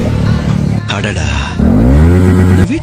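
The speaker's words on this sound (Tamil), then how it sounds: "ஏல பைக்ல அது என்ன சவுண்ட்?" A motorbike engine revs loudly and close, its pitch rising and falling in bursts, with a voice mixed in.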